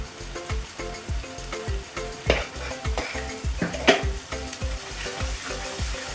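Red chilli masala for spicy mutton kheema roasts in a pan, a loud continuous sizzle broken by rhythmic scraping strokes of a spoon against the metal, with no voices.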